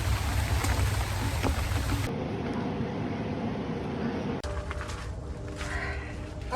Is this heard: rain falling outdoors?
yes